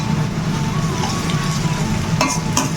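Garlic and onion fry in a pan for a vegetable chow mein, with a steady close sizzle and occasional stirring scrapes, and no voices.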